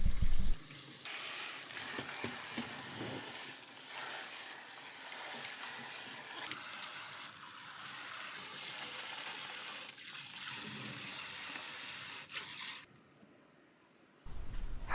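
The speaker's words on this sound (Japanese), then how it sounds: "白菜は中心の芯を切り取って葉っぱをバラバラにしてからよく洗います。" Running tap water splashes steadily over loose napa cabbage leaves being rinsed in a kitchen sink, a continuous close hiss with soft rustling and brief pauses, no talking.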